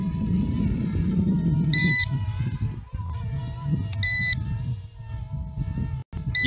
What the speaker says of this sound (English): You can hear on the transmitter that it is beeping.